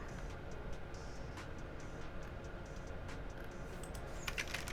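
Typing on a computer keyboard clatters quietly in the background, a continuous patter of light key clicks over a faint steady hum.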